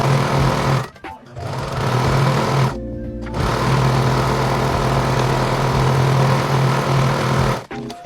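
A sewing machine stitches a reusable fabric bag with a steady rapid mechanical hum, close and loud, briefly pausing twice before running on.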